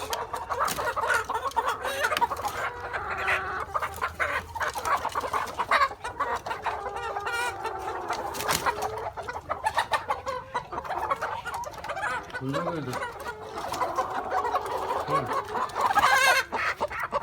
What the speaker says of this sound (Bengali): এখানে মূলত 2200 মুরগি